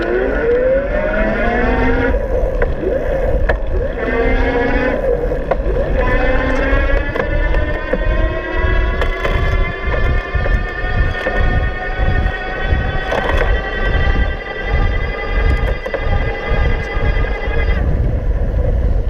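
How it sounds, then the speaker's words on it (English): An Amego Elevate e-bike hub motor running at its highest assist level while climbing, giving a rising electric whine that holds a steady pitch, close and continuous over road and wind noise. "I'm going to do this on the highest level of assist so you can really get a feel for that motor."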